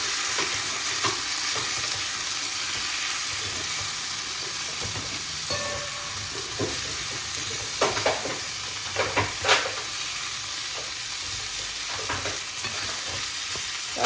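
Garlic and onion sautéing in a pan make a continuous close sizzle, joined by a few light scrapes and clicks of stirring partway through.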